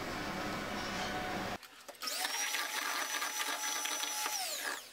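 An electric whisk beats cake batter with sugar, melted butter and oil, a steady mechanical whirring hum that briefly cuts out then restarts at a higher whine close to the microphone.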